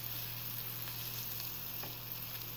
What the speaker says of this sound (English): Starting to sizzle a little bit,